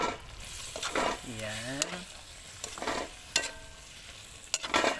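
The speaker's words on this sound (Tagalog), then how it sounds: "Haluin natin." Ginataang puso, a coconut-milk dish of banana blossom with eggplant, is stirred in a pan, with a soft simmering sizzle and scattered spoon scrapes up close while a voice briefly speaks partway through.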